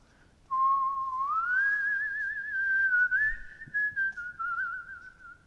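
A sustained tonal whistle starts suddenly, rises in pitch, then wavers and flutters before settling. A single voice imitates an eerie sound drifting out of a dark hole in a Halloween story.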